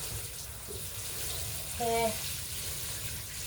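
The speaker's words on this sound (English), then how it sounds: "I need to water it first to soften it up before I can dig." Water runs steadily onto the hard ground inside a greenhouse to soften it for digging, a soft hiss under the background with a brief spoken word.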